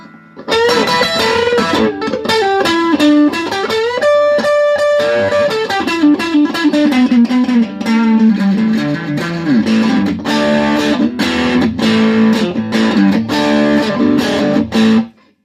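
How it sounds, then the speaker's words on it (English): An overdriven electric guitar, a Slick World Tour Series HSS Strat-style with Alnico 8 humbucker on the neck pickup, plays loud distorted chords and single-note runs, strummed rhythmically and close up. "let's step on that and get some more overdriven tones"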